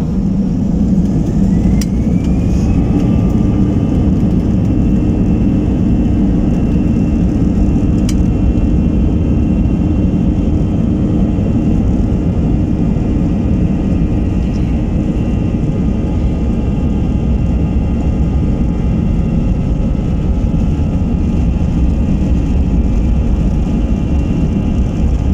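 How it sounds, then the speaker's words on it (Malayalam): An airliner's engines during takeoff, heard from inside the cabin as a loud, constant low roar with a rising whine early on, steady to the end and without talk. "ഞാൻ മ്യൂസിക് ഓഫ് ചെയ്തിട്ട് നമ്മുടെ ഫ്ലൈറ്റിൻ്റെ സൗണ്ട് മാത്രം കാണിച്ചു തരാം."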